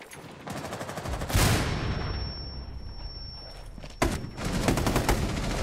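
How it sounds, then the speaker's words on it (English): Bursts of rifle fire and loud shots in a Rainbow Six Siege match, with a sharp blast near the start, a lingering ringing tone, then another heavy volley of rapid shots toward the end. "They shot me through the wall."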